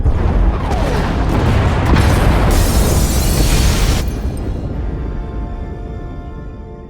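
In Star Wars: The Old Republic, a massive explosion rips through the pod bays, a loud, sustained rumbling blast with crackling debris that fades gradually into a low, ringing tail.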